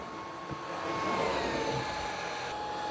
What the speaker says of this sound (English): This is extremely hard to pick up for some cordless vacuums, and this one had no problem whatsoever.